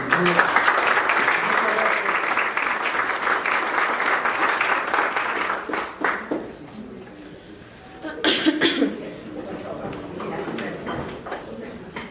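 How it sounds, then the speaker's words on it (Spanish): Audience applause for a doctor at a lecture, dense clapping for about six seconds that fades into scattered claps, with a voice and brief noises near the end. "Démosle un aplauso, doctora"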